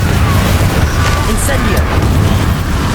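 A Confringo fire blast cast in the Hogwarts Legacy game lands as a loud, dense booming roar with a burst partway through, over a constant rumbling battle din.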